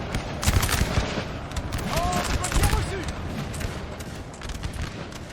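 Musket volleys crackle in a Napoleonic-era battle in the Napoleon Total War 3 game, dense overlapping gunfire bursts with booms amid constant battle noise, with a voice talking over it.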